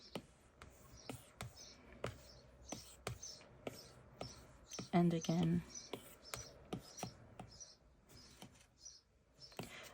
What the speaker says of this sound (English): there is a lot of little birds living in my air conditioning now, so you may hear the sound